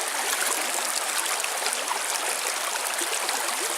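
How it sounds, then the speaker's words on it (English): A stream beside a campsite on the Superior Hiking Trail, its water brown from recent rain, gives a steady, close rushing and trickling flow that stays even and unbroken throughout. "I'll show you guys a stream."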